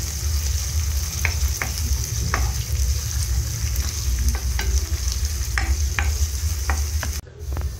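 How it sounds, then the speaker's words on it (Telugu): Ginger paste with curry leaves, mint and coriander sizzles steadily in a kadai, a constant frying hiss broken by repeated sharp scrapes and clicks of stirring, close and loud with no voices. "కొంచెం కరివేపాకు, పుదీనా, కొత్తిమీర కూడా వేసుకొని అవి కూడా ఫ్రై అయ్యేలాగా కలుపుకోవాలి"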